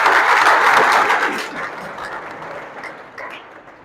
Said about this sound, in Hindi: सर का बहुत जोरदार ताली बजाओ।